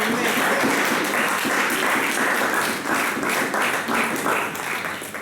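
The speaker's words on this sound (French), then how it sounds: "Acclamons-toi fort pour notre Dieu" A church congregation applauds loudly and steadily for God during a sermon, with dense, continuous clapping filling the room for about five seconds and a faint voice or two mixed in.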